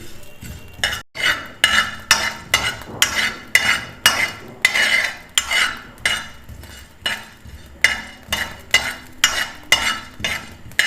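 Two tablespoons of melon seeds (magaj) dry roasting in a pan for besan barfi, stirred with a utensil in a steady rhythm of close, scraping strokes about every half second, with no talking.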